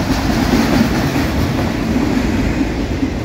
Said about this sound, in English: that was a Chicago Northwestern autorack